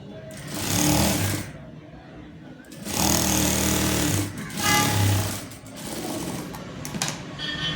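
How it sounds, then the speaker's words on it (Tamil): A sewing machine stitches blouse fabric in three loud bursts of fast, steady whirring, separated by brief pauses. "இதை மடித்து இந்த மாதிரி வச்சு ஒரு தையல் போட்டுருங்க"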